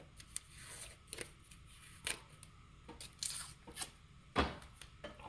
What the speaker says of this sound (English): So I just tear two small pieces right here.